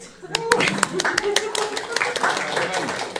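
Scattered audience clapping at a live event: uneven, fairly close hand claps with a voice talking over them.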